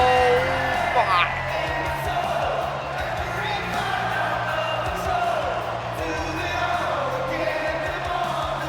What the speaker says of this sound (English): The crowd is on their feet in NXT.